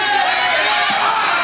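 A wrestling crowd at a Memphis Championship Wrestling event shouts and cheers loudly in a dense, continuous roar, filling the arena for a brief moment.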